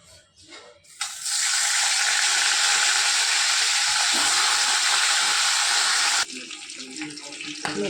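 Hilsa fish heads hit hot oil in a wok and burst into a loud, even sizzle that holds for about five seconds before cutting off sharply, quieter kitchen sounds on either side.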